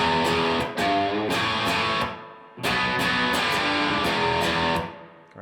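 A distorted electric guitar plays a riff: sustained, ringing power chords struck in short phrases, with a brief pause midway, loud and alone.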